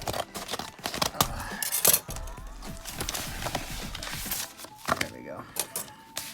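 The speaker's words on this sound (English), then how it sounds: "Big old envelope. Let's just chop it open here." A large mailed envelope from Canada, holding sports cards, being chopped open with sharp cutting snips and paper crackle in irregular bursts, close and fairly loud, with someone speaking briefly between cuts.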